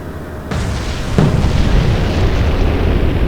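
A torpedo blast in the naval war game Atlantic Fleet, set in a Battle of the Atlantic convoy action: a sudden loud boom followed by a second heavier impact, then a sustained rumbling roar that fills the rest of the moment.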